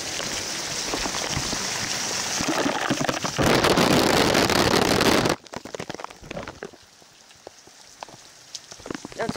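Rain falls steadily on surfaces outdoors, a dense hiss that swells louder and harsher for a couple of seconds, then drops to sparse, closer patters and drips with gusts of wind against the microphone.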